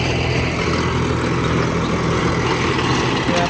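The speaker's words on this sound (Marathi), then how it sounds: "हे आपला ट्रॅक्टर आहे 53" A Mahindra 575 farm tractor runs with a rotavator attached in a field at night, a dense, steady low engine drone with broadband rumble, loud and close throughout with no talk.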